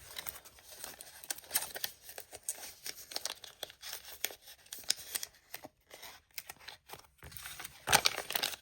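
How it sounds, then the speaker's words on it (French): A paper envelope being filled with cash banknotes: soft, close rustling and crinkling of paper throughout, with a sharper crackle near the end. "Et on va se remplir notre petite enveloppe."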